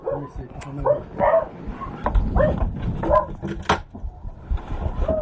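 Beagle at a dog meat farm during a rescue, giving short barks and whimpers mixed with people talking nearby.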